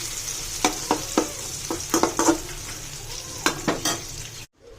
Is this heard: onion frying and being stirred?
yes